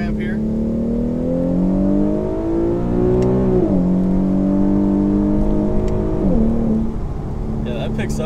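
An Infiniti Q50 with better-flowing filters and a full exhaust accelerates hard up an on-ramp, its engine droning and climbing in pitch through two gear shifts, heard from inside the car.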